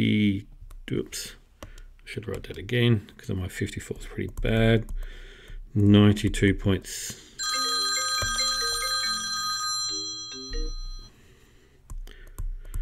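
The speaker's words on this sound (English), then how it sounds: "sorry about that phone call" A telephone rings with repeated electronic tones partway through, under a person's talk about math while working through a data analysis exam question, and a keyboard clicks nearby.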